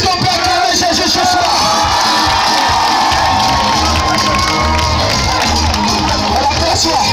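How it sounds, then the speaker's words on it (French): A church congregation cheers and shouts loudly for Jesus during a worship service, a dense, sustained roar of many voices with whoops and yells continuing throughout. "Est-ce qu'on peut acclamer Jésus ce soir?"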